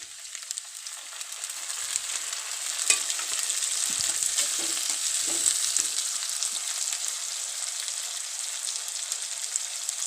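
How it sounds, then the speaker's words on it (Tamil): Onions and tomatoes sautéing in hot oil for a quail egg gravy, a steady bright sizzle with occasional scraping stirs of the pan, close and continuous without speech. "இந்த வெங்காயம் பொன்னிறமாக வதங்கினதுக்கப்புறம் தக்காளி போடுவோம்."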